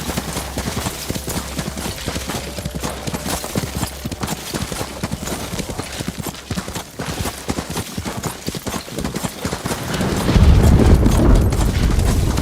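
Horse hooves clip-clopping at a steady walking rhythm in the video game Ghost of Tsushima, close and clear throughout, joined near the end by a louder, low rumbling swell.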